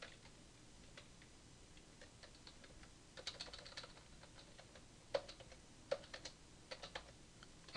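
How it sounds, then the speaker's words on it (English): Typing on a new computer keyboard, with quiet, irregular key clicks and a few sharper taps. The keystrokes come alone against a low room hiss, with no voices. "I have a new keyboard and I'm not used to it yet, so I apologize for the crappy typing."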